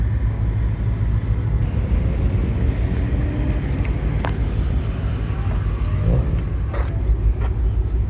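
A 1997 Chevrolet Camaro, T-tops off, rumbles steadily as it warms up before a race, a loud, continuous low engine drone mixed with wind buffeting on the microphone and a few faint knocks.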